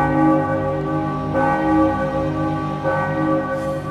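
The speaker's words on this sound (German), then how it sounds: "Die Glocke ist aus der Nähe noch unheimlicher." A church bell tolls in the Enigmatis haunted-village game, a loud, close, sustained ring with rich lingering overtones, struck again around the midpoint and swelling once more near the end, with no voices.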